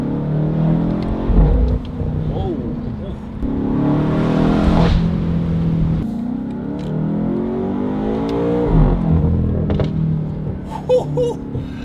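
BMW M8 fitted with a Valvetronic Designs catback exhaust and no downpipes or software changes, revving repeatedly with a loud, deep exhaust roar that rises and falls across several pulls, heard up close.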